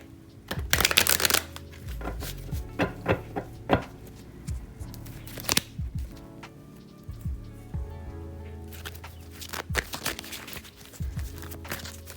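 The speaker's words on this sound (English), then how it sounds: "Let me go ahead and shuffle here." Cards riffled and shuffled repeatedly at close range, crisp fluttering bursts with soft taps and bridging sounds between them, no talking.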